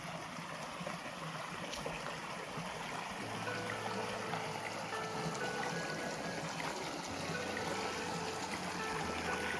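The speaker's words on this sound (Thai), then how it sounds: "ได้ยินเสียงน้ำ" A stream at Kaeng Krachan, Thailand, flows steadily in a continuous broadband rush, with no talking and a faint low hum drifting underneath.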